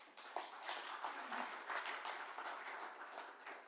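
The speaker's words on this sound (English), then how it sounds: "can we give a round of applause for Jeep, please?" An audience claps for a panelist coming to the stage at an expert panel on industrial innovation. The crowd applause is steady but faint and distant, holding at an even level throughout.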